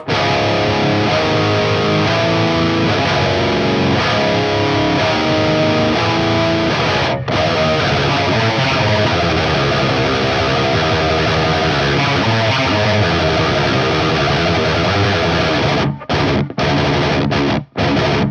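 Heavily distorted electric guitar, a cheap Ibanez, with a thick, chunky high-gain tone plays continuously and loudly, with a few abrupt cuts near the end.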